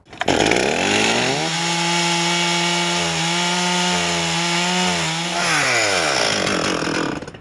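A chainsaw revs up loudly and settles into a sustained high-pitched whine cutting wood, bogging slightly under load before revving back out at the end.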